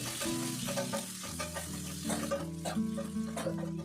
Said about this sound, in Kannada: ಈಗ ಕಟ್ ಮಾಡಿ ಒಂದು ಈರುಳ್ಳಿನ ಸೇರಿಸ್ಕೊಂಡು ಈಗ ಸ್ವಲ್ಪ ಹೊತ್ತು ಫ್ರೈ ಮಾಡ್ಕೊಳ್ತೀನಿ